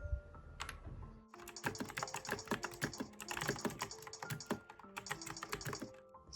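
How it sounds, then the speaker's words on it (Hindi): Rapid computer keyboard typing in continuous bursts of clicking keystrokes, close and fairly loud, with no talking over it. "Now I am going to type for 15 minutes."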